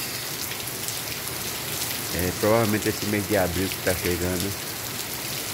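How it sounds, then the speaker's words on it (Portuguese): Heavy rain in Santana do Ipanema, Brazil, gives a steady, broad hiss throughout, with someone talking over it in the middle. "Chovendo com vontade mesmo."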